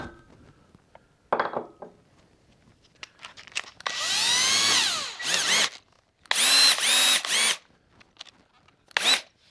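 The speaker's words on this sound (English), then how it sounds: "Now I'm going to sand the inside of the ridge." Electric drill spinning a homemade sanding drum against picnic table wood, heard in several loud, sustained bursts of whirring and grinding separated by pauses and handling clatter.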